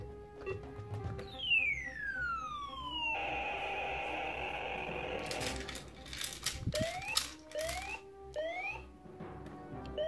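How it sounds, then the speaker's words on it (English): A Radio Shack Electronic Sea Battle game's ship-sunk alarm wails with falling and rising siren tones, followed by beeping electronic chirps and clatter, fairly faint. "Alarm indicates that the ship has been sunk."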